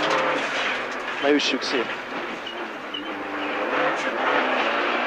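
Inside a rally car on a special stage of the 2014 Kazár rally, a constant roar of engine and road noise fills the cabin while crew voices speak over it.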